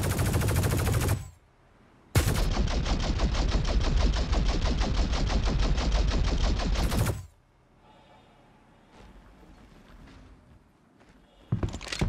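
Loud rapid automatic gunfire bursts in the video game Star Citizen, a short burst followed by a sustained five-second stream of shots, then quieter ambience with faint clicks before another burst starts.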